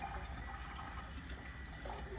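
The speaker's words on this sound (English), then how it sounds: "the water coming out of here is alkaline" Water streams steadily out of a Kangen water ionizer machine, a continuous soft splashing flow that is fairly faint, with no voices heard.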